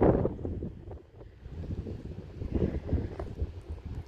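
Wind blows at a beach on the Turkish coast, buffeting the microphone in low, rumbling gusts that swell and ease irregularly.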